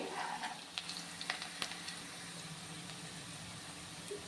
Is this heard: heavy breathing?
no